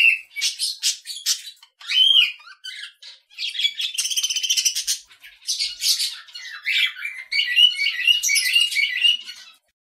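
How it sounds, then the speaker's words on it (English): A budgerigar chatters in a rapid, continuous run of squawks, chirps and warbles, loud and close, with no background noise. "Budgerigar."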